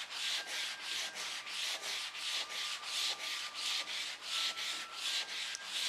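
Wooden door trim is sanded by hand to strip paint, making a steady, rhythmic back-and-forth rasping of even strokes close up, with no talking.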